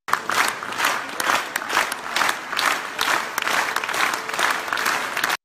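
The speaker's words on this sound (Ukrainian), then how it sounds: "Ще під час прем'єри на Каннському кінофестивалі «Памфір» зірвав рекордні оплески від зали на" Audience applause at the Cannes Film Festival premiere of the film Pamfir, a large crowd clapping loudly in rhythmic surging waves that swell and ebb several times before cutting off.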